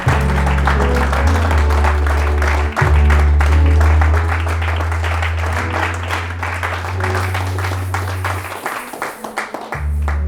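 A church congregation claps and applauds loudly in a sustained burst over a droning organ or keyboard bass, with a voice briefly calling out over it.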